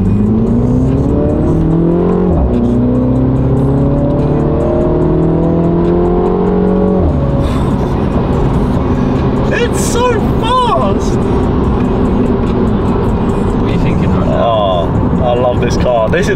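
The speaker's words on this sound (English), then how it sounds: "This is the stock exhaust is popping and all sorts as well." A car engine revs and accelerates loudly through gear changes, with crackling pops from the stock exhaust; people talk over it.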